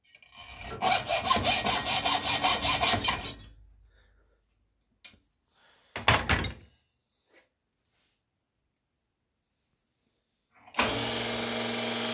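A hacksaw cuts metal while a lever tool is being made: a fast, rhythmic run of close strokes for several seconds, a short second burst after a pause, then cutting resumes at the end.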